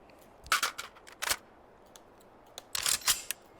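A rebuilt P90 submachine gun emptying its magazine in the VR shooting game H3VR: rapid, sharp, fairly quiet shots in two clusters separated by a short pause.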